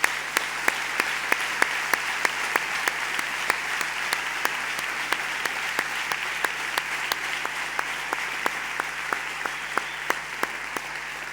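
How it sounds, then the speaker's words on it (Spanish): An audience at a motivational conference for freelancers and small businesses applauds steadily and evenly, a dense sustained clapping with a few sharper individual claps standing out. "Bueno, se merece un aplauso."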